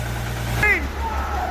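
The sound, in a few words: glider kit truck engine running after first start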